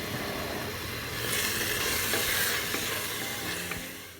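Garlic paste with mint and coriander leaves stirred and frying in an oil pan, a steady soft sizzle with scraping stirs that swells slightly midway, no voices.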